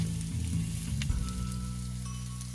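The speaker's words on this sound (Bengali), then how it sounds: "একসাথে সব ফুলকপি দিয়ে দেবে না অল্প অল্প করে দিয়ে ভাজবে" Cauliflower florets fry in hot oil in a pan, a close, steady sizzle and crackle with a low hum beneath it, lasting the whole short stretch with no talking.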